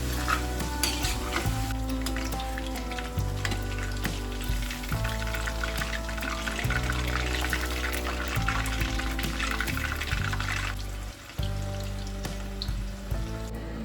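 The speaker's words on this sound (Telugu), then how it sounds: "చికెన్ స్టార్టర్కి కావాల్సిన చికెన్ని ఫ్రై చేస్తున్నాను. ఆయిల్లో డీప్ ఫ్రై చేయాలి" Thinly sliced chicken deep-frying in hot oil for an Andhra chicken starter, a steady dense sizzle and bubbling running throughout, close and loud, with occasional clinks of a utensil.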